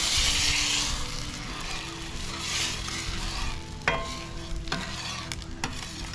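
Kentucky bourbon garlic-butter steak bites sizzling on a flat griddle, a loud continuous fry hiss broken by sharp scraping clicks of a spatula stirring the meat, no voices.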